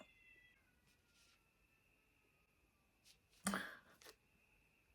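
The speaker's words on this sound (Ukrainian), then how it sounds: "Це чуєте котів любов?" Cats wail and yowl in a short, sharp burst over a quiet background, with a faint high tone fading early on.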